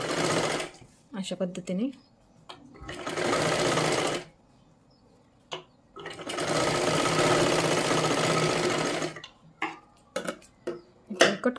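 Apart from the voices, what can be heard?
sewing machine stitching a blouse neckline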